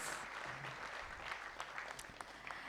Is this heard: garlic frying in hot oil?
no